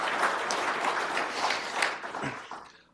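An audience applauds after a speech at an Army air and missile defense event, giving dense, lively clapping that stays full for most of the clip before tapering off at the end.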